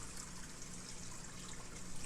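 Water dripping and trickling from a Reef Octopus calcium reactor into the sump of a 220-gallon reef tank, heard as a continuous close, soft watery trickle.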